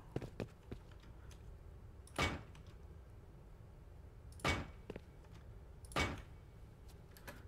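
Doors being placed on a cave base in the video game Rust, three distinct thudding clunks spaced a couple of seconds apart over faint background, with a few lighter ticks between them.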